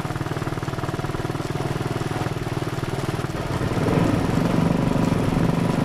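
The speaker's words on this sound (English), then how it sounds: "that's my wheel horse, the greatest little lawn and garden tractor ever made" A small Wheel Horse lawn and garden tractor engine chugs steadily with a rapid, rough pulse, growing slightly louder partway through; close, continuous, with no voices.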